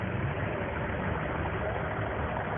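A 1988 Ford TW25 tractor with a British-built engine idles at a vintage farming show, a steady low rumbling drone that holds even throughout.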